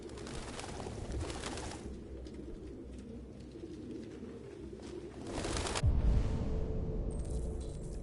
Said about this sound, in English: A lot of pigeons in there.